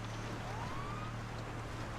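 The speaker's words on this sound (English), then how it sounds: "I am going to cut the siren off though." Police car siren in the GTA V video game, a steady wailing tone sweeping upward over a constant engine drone, heard alone without talk.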